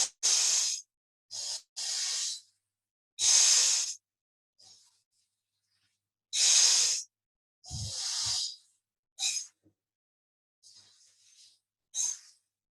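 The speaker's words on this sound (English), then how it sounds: "Breathing in from abdomen." Forceful yogic breathing exercise of the Kapalbhati or Bhastrika kind, with a series of sharp, breathy exhalation bursts in uneven groups, close and fairly loud, separated by short silences and a few fainter puffs.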